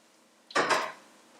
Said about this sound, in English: Let's stir it all in there.